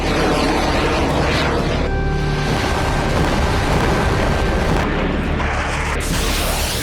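Israeli fighter jets strike Iranian military sites on 26 October 2024, a loud, continuous jet roar mixed with heavy booming blasts that fills the scene throughout.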